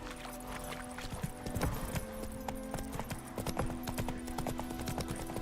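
Roach the horse trots in The Witcher 3 video game, a steady clip-clop of hooves at close range over a humming background, with faint jingling and no talk.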